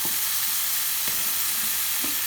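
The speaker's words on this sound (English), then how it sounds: "put just a tiny little bit of chicken stock in here to enhance the flavor" A splash of homemade chicken stock hits a hot pan with Cajun shrimp, giving a steady soft sizzle with a few brief sharper hisses and crackles, close by and without talk.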